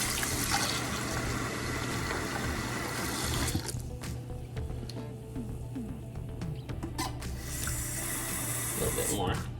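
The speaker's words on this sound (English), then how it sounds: "You're going to cover it with water." Tap water runs loudly into a cooking pot over raw turkey parts, stops for a few seconds, then splashes and fills again near the end.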